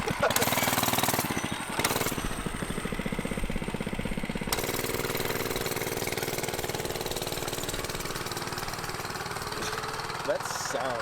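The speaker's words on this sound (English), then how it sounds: "It literally is a lawnmower motor." A cheap mini bike's lawnmower-type engine runs with no exhaust fitted, giving a loud, raw, rattling chug that carries on steadily throughout, with a brief drop early on and voices talking over it.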